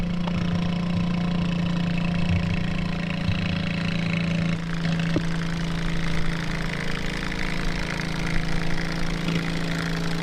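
Garden tractor engine running steadily at a 4-State Garden Tractor Pulling Series pull at a Ruritan spring show, a loud continuous mid-pitched drone that holds for the whole stretch, with a brief dip and knock partway through.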